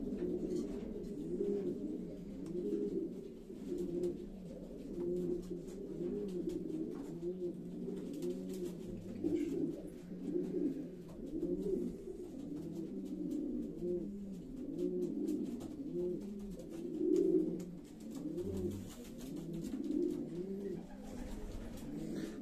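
Homing racing pigeons in a loft coo steadily and repeatedly, a low rolling murmur from several birds close by, with faint rustling and movement in the background.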